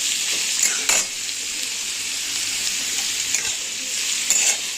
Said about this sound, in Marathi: सगळा कांदा आता तेलावर टाकून घेतला आहे आणि हा कांदा थोडासा परतून घ्यायचा आपल्याला थोडासा गोल्डन होईपर्यंत